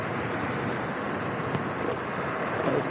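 Steady, loud wind roar buffeting the microphone while riding a Xiaomi M365 electric scooter with a 500W motor into a headwind at around 46–48 km/h, a continuous broadband rush with no voices.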